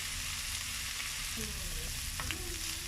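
Bacon frying in a pan gives a steady, fairly soft hiss and crackle throughout, with a faint brief stirring or scrape partway through.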